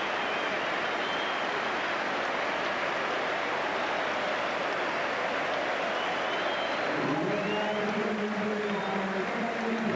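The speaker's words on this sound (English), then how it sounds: "Richly deserved applause for Pires" Crowd applause at an Arsenal versus Manchester United football match as Pires is substituted, a broad, steady roar of clapping from the stadium with a commentator's voice over it toward the end.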